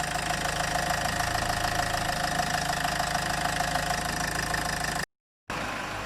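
A Land Rover Freelander 2.2 engine idles steadily while warming up, a close, even mechanical hum with a slight knocking tick, broken by a brief cut of silence near the end.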